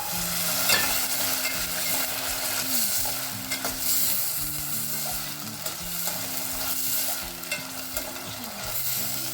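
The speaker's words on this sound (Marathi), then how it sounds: "मटर आणि फ्लावर घातल्यावर 1 मिनिट अजून परतले आपण." Peas and cauliflower sauté in a pan for vegetable pulao, a soft sizzle with stirring scrapes throughout, while quiet background music plays underneath.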